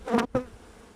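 Honey bees buzz during a hive inspection, heard as two quick, close swells of buzzing within a second.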